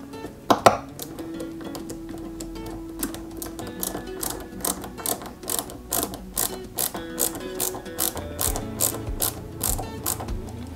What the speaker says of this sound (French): Je mets la deuxième vis.